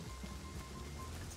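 Steady rain falls in a roleplay server video game, a dense even hiss with a low rumble underneath, continuous and moderately quiet throughout, with no speech.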